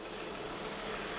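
A warmed-up car engine idles at normal operating temperature, a steady even drone with constant loudness throughout and no voices.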